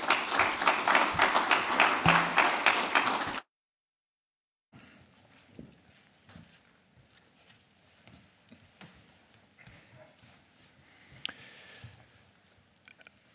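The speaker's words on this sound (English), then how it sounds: "give them a round of applause" Applause for panelists from the European Parliament's Socialists and Democrats group at a debate on generative AI and creative work, a dense burst of clapping for about three seconds that stops abruptly, followed by quiet room noise with small shuffles and knocks.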